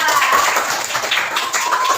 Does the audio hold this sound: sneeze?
no